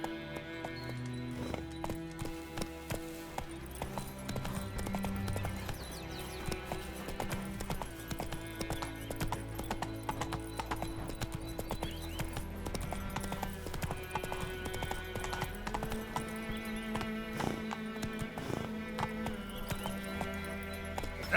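Horse hooves clip-clopping at a steady galloping rhythm in The Witcher 3 video game, set against a continuous layered music score, with no talking.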